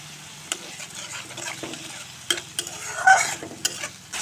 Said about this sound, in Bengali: এখন সামান্য জল দিয়ে মশলা কষে নেব।